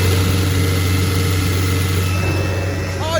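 A Fuchs material-handling machine idles with a loud, steady engine drone and a low hum throughout. The machine has low hydraulic oil and a sensor that shuts the engine off.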